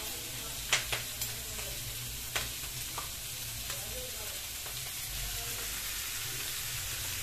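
Ground spice paste of ginger, cumin, green chili, onion and garlic frying in a pan beside eggs, a steady close sizzle with a few sharp spatters and stirring clicks early on, no talking.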